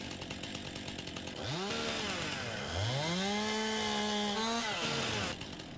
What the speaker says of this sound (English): I do like how the chainsaw cuts a lot faster than it used to.